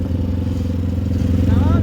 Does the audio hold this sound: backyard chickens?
no